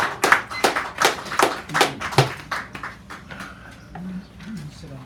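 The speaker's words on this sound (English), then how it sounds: "Give him a nice round of applause." Audience applause for a poet at Sacred Grounds Cafe in San Francisco, a handful of loud, close claps in a quick rhythm that fade into softer scattered clapping, with talk and murmuring underneath toward the end.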